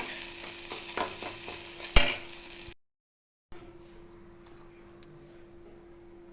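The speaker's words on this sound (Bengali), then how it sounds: "কড়াইয়ে সরষের তেল দিয়ে একটা ডিম ফাটিয়ে ওর মধ্যে একটু ডিমের ঝুড়ি বানিয়ে নিলাম" An egg fries in mustard oil in a pan, sizzling and spattering with a sharp clatter, a brief silent gap, then a softer steady fry with light clinks.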